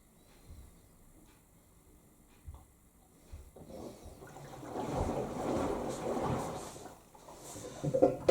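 A Zanussi Lindo 1000 ZWD71463NW washer dryer drains water during a wool 40°C cycle: after a few soft knocks, a rising rush and gurgle of flowing water swells for several seconds, then eases off.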